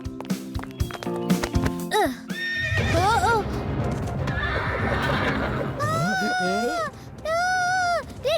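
A horse whinnies several times in long, wavering calls, with hoofbeats and busy background sound beneath, in an animated cartoon scene where voices also speak.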